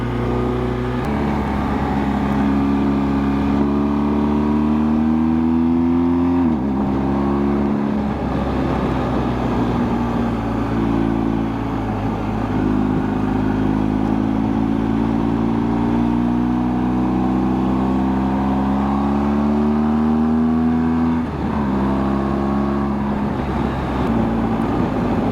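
A BMW R1250 GSA motorcycle engine climbing mountain switchbacks, a loud, close drone that rises and falls with each throttle change and shift, with constant wind rush and no talking.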